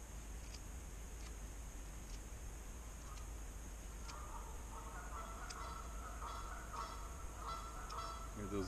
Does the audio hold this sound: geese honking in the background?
yes